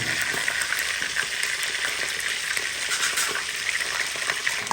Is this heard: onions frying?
yes